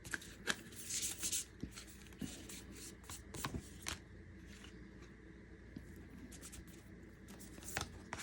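Oracle cards being shuffled by hand, a quiet run of soft riffling and papery slaps with brief sharper flicks, continuing unevenly for several seconds with no talking.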